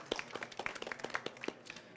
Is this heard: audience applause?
yes